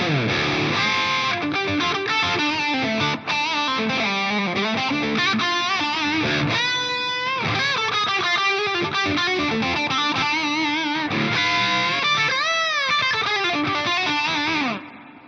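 Thick, distorted electric guitar with a wide detuned chorus shimmer, washed in delay and reverb from an Axe-Fx III, playing sustained chords and bending lead lines without pause.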